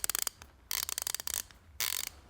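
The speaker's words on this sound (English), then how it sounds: "the backdrag on it is, let you listen to it" An Icon locking flex-head ratchet freewheels backward in three bursts of quick, sharp pawl clicks, each run lasting about half a second, close and clear with no voices.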